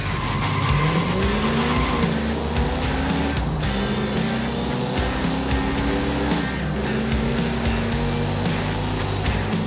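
A 1969 Dodge Charger R/T in the Forza Horizon 5 racing game snarls loudly, its engine revving up and down through gear changes while the tires squeal and skid, with no talking.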